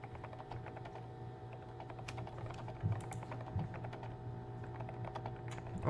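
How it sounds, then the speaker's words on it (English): Keyboard typing clatters steadily from behind a wall in the video game Viewfinder, muffled and fairly faint over a constant low hum, with a few louder keystrokes. "That's a person behind there typing?"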